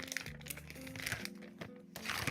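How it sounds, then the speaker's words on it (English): Paper crinkling and crunching as auction items of ironstone and primitive pieces are wrapped, steady close rustling bursts, faint and with no talk. "I will wrap it up nice and neat."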